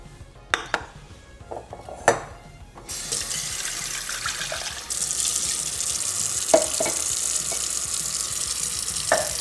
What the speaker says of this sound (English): So I just want to rinse this bowl out.